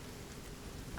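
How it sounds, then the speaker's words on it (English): Rain falls in the survival video game Sons of the Forest, a continuous faint wash of hiss and low rumble heard alone. "it's raining"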